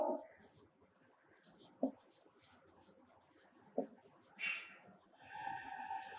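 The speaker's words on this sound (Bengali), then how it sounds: "আমি পরপর লিখছি" Chalk or marker writes on a board in a quiet classroom, with scattered scratchy strokes and taps coming in short bursts and pauses.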